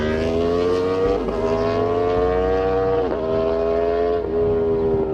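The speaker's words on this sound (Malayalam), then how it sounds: "പക്ഷെ നമ്മൾ ഇതിന്റെ പീക്ക് ഔട്ട്പുട്ടിലോട്ട് പുഷ് ചെയ്യുമ്പോൾ എഞ്ചിൻ നല്ല നോയ്സ് ആകാറുണ്ട്" A Chevrolet Beat diesel engine is pushed hard toward peak output, a loud, steady droning roar heard from inside the car, its pitch climbing in repeated pulls with brief dips between gear changes.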